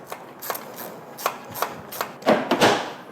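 Ratchet wrench loosening 10 mm clamp bolts on a Honda Civic Type R shifter assembly, a series of sharp, separate clicks in short uneven bursts, close and fairly quiet, growing louder toward the end.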